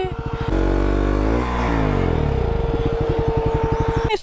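A motorcycle stuck on a rough road revs hard, its engine climbing and dropping in pitch, then settles into a loud chugging idle with a rapid regular pulse, close and continuous.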